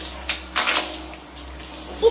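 Water running while hair is rinsed in a bath: short splashing bursts and pours over a steady hum, close and fairly loud, with no talking.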